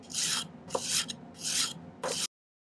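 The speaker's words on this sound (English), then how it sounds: "So I did a little filing to get it down like that." A hand file rasps across a small piece of silver for a pendant, four close back-and-forth strokes of scratchy grinding, then silence.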